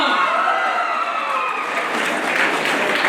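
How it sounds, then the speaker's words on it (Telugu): A crowd applauds a first-prize winner at a youth festival declamation contest in Nagarkurnool, with loud, dense, steady clapping and a few cheers throughout. "ప్లీజ్ గట్టిగా చప్పట్లతో ఆహ్వానిద్దాం"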